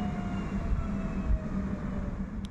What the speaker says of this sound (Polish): SM36009 z pociągiem osobowym Oświęcim-Katowice.